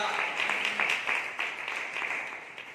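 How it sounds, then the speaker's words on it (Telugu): A church congregation clapping for God, a quick scatter of hand claps blending into a brief, fairly soft round of applause with some voices mixed in. "ఒకసారి దేవుడికి చప్పట్లు కొట్టి"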